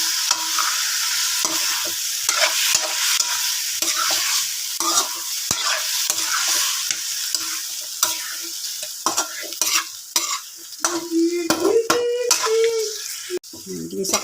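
A blue marlin head sautés in a hot pan with a loud, crackling sizzle, broken by repeated scraping and clattering stirs, with a few brief hums of voice toward the end.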